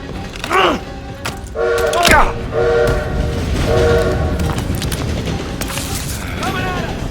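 Train in a Call of Duty war game, horn blasts and rumbling rail noise over gunfire and shouted voices.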